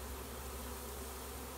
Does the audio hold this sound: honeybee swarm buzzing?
yes